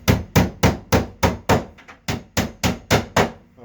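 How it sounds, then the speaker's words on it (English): A small hammer taps a pin into a back-to-back door hinge, about a dozen sharp, evenly spaced knocks in quick steady rhythm, close and loud with nothing else heard. "You may have to bang that in with a little hammer"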